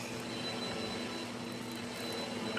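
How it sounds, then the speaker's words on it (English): A household vacuum cleaner drones steadily in a kitchen during Christmas cookie baking, a continuous even whine and rush at moderate distance with no speech. "Oh, we got the vacuum going."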